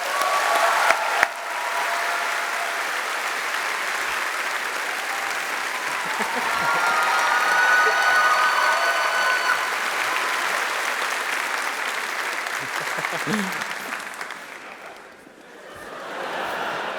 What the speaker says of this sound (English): Let's get another warm round of applause for Mr. Marcin Iwinski.